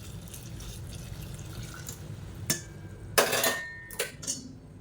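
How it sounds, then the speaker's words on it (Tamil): White dissolved liquid is poured into a sweet prasadam mixture in a home kitchen, producing several short splashy bursts and faint clinks of a utensil against the vessel over a quiet background. "இப்போ நம்ம கரைச்சி வச்சுருக்கிற இந்த வெள்ளை தண்ணியை சேர்த்துக்கலாம்"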